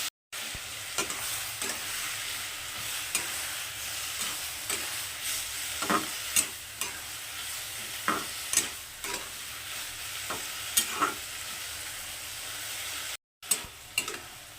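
A pan of masoor dal, egg and potato fries with a constant close sizzle, punctuated by sharp stirring knocks and scrapes, briefly cutting out near the end before resuming.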